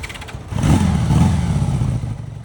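A 1975 Honda Goldwing motorcycle engine with four carburetors runs steadily after a brief quieter start, a loud, close, low rumbling idle with light mechanical clatter and no talk.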